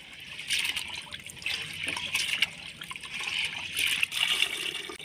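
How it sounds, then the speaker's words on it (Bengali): Soaked parboiled rice is washed by hand in water, with soft sloshing and trickling splashes in uneven bursts, close by and fairly quiet. "এবার আমি চালটাকে ভালো করে ধুয়ে নেব"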